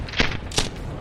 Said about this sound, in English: It opens fire from a 25mm cannon.